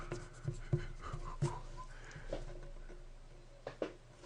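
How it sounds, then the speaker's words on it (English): A board eraser rubs across a writing board, giving several short scrubbing strokes at an irregular pace, fairly quiet and close, with no talking. "So I'm going to erase the rest of that."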